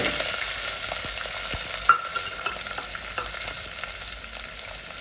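Curry leaves and onion frying in hot oil make a close, crackling sizzle, broken by soft stirring scrapes and one brief sharp clink. Nobody talks.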